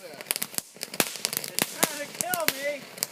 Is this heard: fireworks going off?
yes